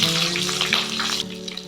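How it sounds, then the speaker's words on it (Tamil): Chopped chilies fry in a pan for Pallipalayam chicken, a steady broadband sizzle that fills the whole stretch at close range, with no talk over it. "இந்த மிளகாய் நல்லா வறுபடட்டும் ஃப்ரெண்ட்ஸ்."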